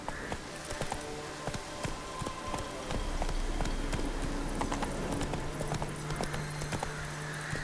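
Roach, the horse, galloping in Witcher 3, with rapid rhythmic hoofbeats clattering continuously, close and steady, over a low ambient bed.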